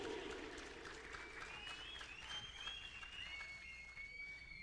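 An audience claps steadily in a room, a soft dense patter of many hands at moderate distance, with a faint voice rising over the applause.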